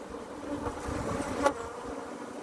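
Honeybees buzz around a shaken brood frame from a hive, a close, steady insect drone with a brief louder burst partway through.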